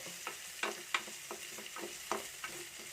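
Shallots, garlic and curry leaves fry in a hot pan, giving a steady crackling sizzle broken by several sharp stirring scrapes and spatters, close and clear with no talk.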